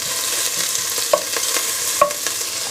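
Carnitas pork frying in a pot and being stirred, with a steady soft sizzle and two sharp scrapes of the utensil against the pot, close and alone with no talk.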